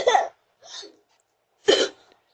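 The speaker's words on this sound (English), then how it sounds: "Quit coughing on the doorbell." Three coughs into a Ring doorbell, two sharp ones and a softer one between, close to the microphone with silence in the gaps.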